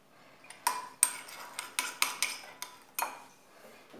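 A utensil clinks and scrapes against a dish while mixing lentil salad, about a dozen sharp, close taps in an uneven rhythm, quiet between strikes.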